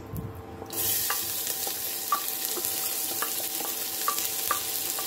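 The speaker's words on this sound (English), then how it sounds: "I've got 2 large onions in here. I've got a bit of lard in there." Two large onions frying in lard in a pan, a steady close sizzle with faint clicks of stirring running through it and no voices.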